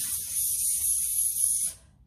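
A voice imitates a spray can spraying flies in a children's story, a steady breathy hiss that holds for under two seconds and then stops abruptly.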